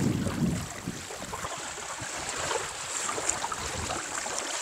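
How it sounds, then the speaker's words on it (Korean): Small waves lap steadily along a lake shore in the open air, a soft continuous wash with occasional splashes and some wind buffeting the microphone. "뭐 바다도 아닌데 파도 치는 것 같죠?"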